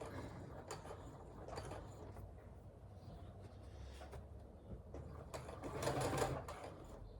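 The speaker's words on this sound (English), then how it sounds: "And we're going to just backstitch on the back again." A sewing machine backstitches seams on a handmade zippered project bag, its fast mechanical stitching running steadily at low volume with a brief louder burst near the end, and no voices.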